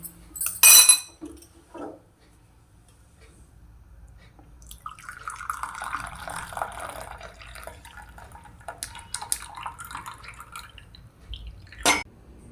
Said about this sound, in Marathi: आता आपण चहा गाळून घेऊयात।